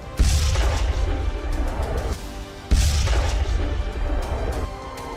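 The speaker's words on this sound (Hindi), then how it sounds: "बैलिस्टिक मिसाइलों के साथ लगा ये बम गुच्छों में आबादी में गिर रहा है" Cluster bombs carried by ballistic missiles exploding over a populated area, with two loud, deep blasts a few seconds apart, each followed by a rolling, crackling rumble.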